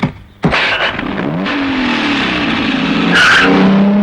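A car in a Tamil movie scene revs and pulls away, its tires screeching and skidding in a long whine that rises and falls, loud and close throughout, with no talk over it.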